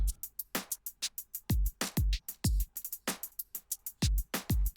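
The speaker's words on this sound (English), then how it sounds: "the rap beat I'm working on for this other guy with no melodic part sounds like this" A dry, drum-only hip-hop beat with punchy kicks and snappy hits in a steady, driving pattern, no melody or voices.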